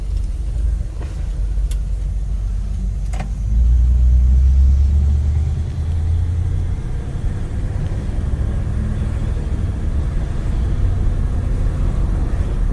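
A 1957 Oldsmobile 88 Holiday Golden Rocket driving, heard from inside as a steady, loud low engine rumble and road drone that swells briefly as it accelerates, with no talking.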